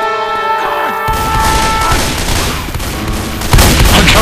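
Rapid gunfire bursts from Left 4 Dead 2 on The Parish campaign, dense and loud throughout, with a sharper burst near the end.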